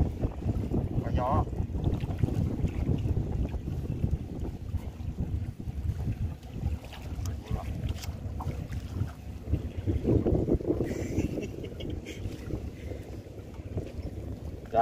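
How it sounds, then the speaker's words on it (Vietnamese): Wind gusts and buffets steadily across a small fishing boat out on open water. The roar is loud and continuous and presses close against the microphone, with sloshing water underneath and faint voices now and then. "Có gió."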